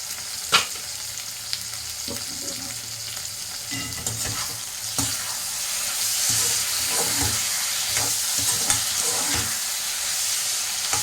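Pieces of mutton liver fry in a pan with a dense, constant sizzle, broken by occasional scraping stirs and clinks, close and fairly loud.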